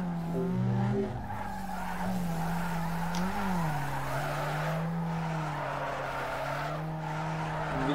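A car in Need for Speed Underground 2 drifts through a long slide, its engine droning steadily while tires squeal loudly and continuously, the pitch wavering as the slide holds.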